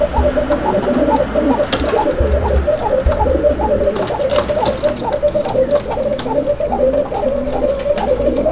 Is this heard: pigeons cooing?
yes